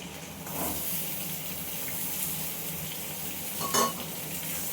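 Ridge gourd and stalks go into a wok with potatoes, giving a soft steady sizzle with brief stirring scrapes and a short louder clatter near the end, fairly quiet with no talk.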